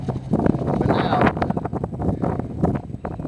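Strong wind gusting outdoors, rumbling steadily across the mic at close range while people talk over it throughout.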